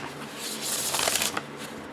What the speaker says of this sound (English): So let's give this a shuffle.